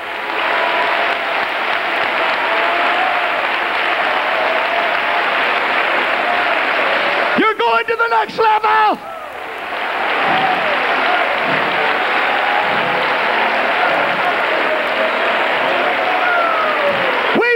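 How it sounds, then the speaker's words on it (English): A church congregation claps hands in a loud, steady, dense roar of applause with music underneath, broken briefly in the middle by a speaker's voice before the clapping resumes. "Clap your hands to him"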